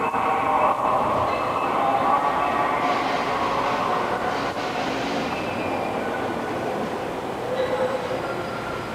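A train rumbles nearby at the Galveston train station in 1995, with steady mechanical noise and faint metallic squeals, while people talk in the background.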